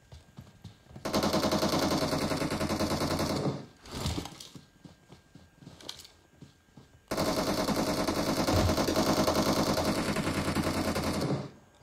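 Rapid automatic gunfire in PUBG Mobile, two long, steady bursts of fast repeated shots separated by a few seconds of scattered shots and quieter gaps.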